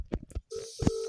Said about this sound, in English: Why does it sound like you're ringing your own phone?